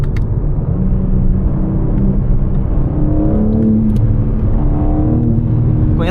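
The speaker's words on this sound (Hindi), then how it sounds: "ये सिंपल प्लेन जो 6 सिलेंडर इंजन की साउंड आती है वैसी सी साउंड है।" BMW M4 Competition straight-six engine revving, a loud, close, steady rumble with several rising rev sweeps and no pops or crackles.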